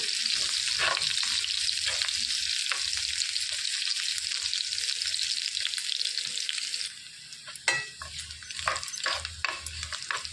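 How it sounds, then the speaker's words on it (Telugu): Garlic frying in hot oil, a bright continuous sizzle up close that drops off partway, followed by scattered scrapes and clinks of stirring in the pan. "వెల్లుల్లిపాయలు వేసి వేయించుకోవాలి మంచిగా."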